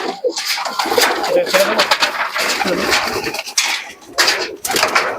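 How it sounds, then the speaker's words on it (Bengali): Pakistani pigeons coo and flutter close by in a busy, reverberant pigeon sale, with people talking over the birds throughout. "পায়রার মেলা প্রচুর কবুতর আছে এখানে"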